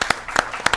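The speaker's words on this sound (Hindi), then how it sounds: "एक बार जोरदार तालियां खुशबू के लिए" At a Kavi Sammelan, an Indian poetry gathering with patriotic verse, an audience gives a poet a short burst of sharp, separate claps, loud and close.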